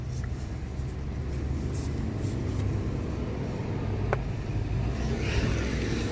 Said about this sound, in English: Remarkably, the car is actually running and it doesn't feel too bad.